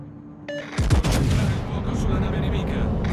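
The secondary gun battery of the Japanese tier IX warship Daisen fires in World of Warships, opening with a heavy booming blast that rolls into a sustained roar of gunfire, loud and close.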